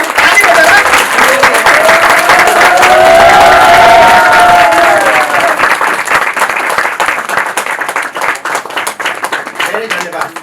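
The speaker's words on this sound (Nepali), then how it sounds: "ताली हुन्छ, ताली बजाएर" A church congregation claps together in sustained applause, loud and dense at first and then gradually thinning, with a faint sung or musical tone running beneath the clapping.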